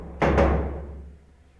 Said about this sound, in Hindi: अचानक दरवाज़ा अपने आप ही हिलण डै पिया है